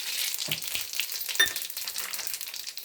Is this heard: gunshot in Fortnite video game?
no